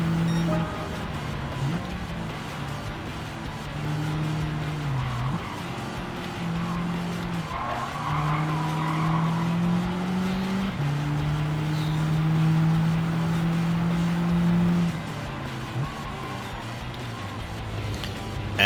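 An untuned factory race car in Gran Turismo 7 skids through corners, its tires squealing in long sliding tones that rise and fall over a steady engine drone for the whole stretch.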